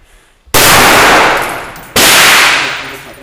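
Special forces fire two sharp, loud volleys about a second and a half apart, each a sudden crack followed by a long echoing decay across open terrain.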